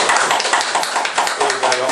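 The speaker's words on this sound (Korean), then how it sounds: "벤치에게 박수를 안 쳤네. 박수!" Dense hand clapping from a small group, steady and continuous throughout, close and fairly loud.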